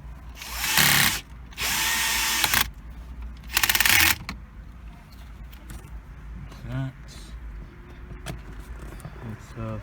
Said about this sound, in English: let's put the screw back on.